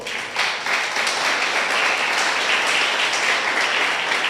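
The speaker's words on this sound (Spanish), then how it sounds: "Dale un aplauso al Señor." A church congregation claps loudly and continuously, a thick, even roar of many hands filling the room with no speech over it.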